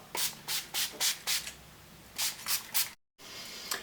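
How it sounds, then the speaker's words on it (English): Close, hissing bursts of a NYX Dewy Finish setting spray pump onto a face, five quick sprays in a row, a short pause, then three more. "now I'm going to set my face with a little bit of the NYX Dewy Finish Setting Spray"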